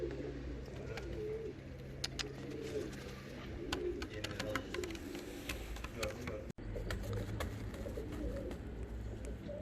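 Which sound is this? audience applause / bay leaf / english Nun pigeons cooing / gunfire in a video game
english Nun pigeons cooing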